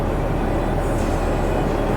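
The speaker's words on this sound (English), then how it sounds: "Just got to wait for the train to go by." A train rolling past a railway crossing in Thailand, a loud, continuous broadband rumble and clatter heard up close from a waiting vehicle, steady throughout with no voices.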